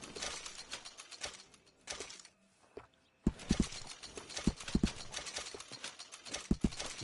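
Horse hooves clip-clop in a steady walking rhythm, close and fairly loud, with a short quieter gap partway through.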